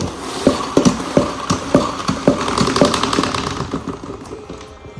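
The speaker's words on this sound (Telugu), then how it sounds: "మాపింగ్ అయిపోయాక ఇక్కడ స్పిన్ చేసుకుంటే వేస్ట్ వాటర్ ఇటువైపు వెళ్ళిపోతుంది" A plastic spin mop bucket whirs as the mop is spun, giving a quick run of rhythmic ratcheting clicks over a whirring spin that slows and fades.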